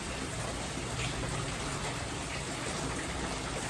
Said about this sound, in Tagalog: Ulan na lang, wala nang hangin.